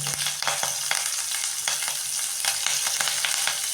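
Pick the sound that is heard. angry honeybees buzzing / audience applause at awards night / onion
onion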